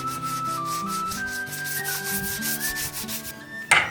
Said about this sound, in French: Alors on s'est mis à frotter. Frotter à la main pendant longtemps.